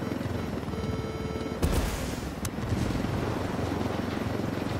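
A steady, dense rotor drone from a helicopter in Ghost Recon Wildlands fills the scene and runs throughout, broken by two sharp cracks of gunfire partway through.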